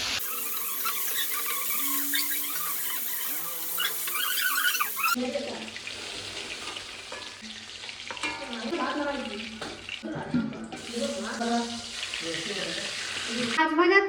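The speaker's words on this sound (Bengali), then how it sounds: "ঢেলে আমি ফোড়নে দিচ্ছি কালো সর্ষে আর শুকনো লঙ্কা" Black mustard seeds and dried chillies sizzle and crackle in hot mustard oil, a steady frying hiss with scattered pops, joined partway through by clattering and stirring sounds; a voice is briefly heard.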